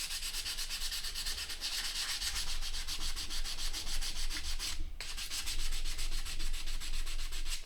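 Steady sandpaper rubbing on the lacquered wooden back of a guitar neck, a continuous close raspy scrape with rhythmic strokes and a brief pause near the end.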